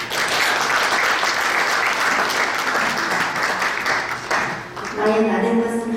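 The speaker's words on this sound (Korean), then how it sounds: "우리 한번 크게 박수 맞이하겠습니다." An indoor audience at a church celebration gives loud, sustained applause to welcome a singer. Steady clapping fills most of the stretch and fades near the end as a voice begins.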